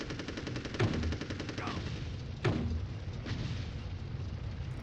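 A grenade launcher firing in an Army Men toy-soldier video game, two distinct loud, punchy shots about a second and a half apart, then a softer third, over rapid machine-gun-like rattling.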